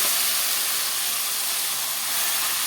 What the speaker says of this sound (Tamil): நம்ம அரைச்சி வச்சுருக்கிற இந்த பேஸ்ட்டை போட்டுடலாம்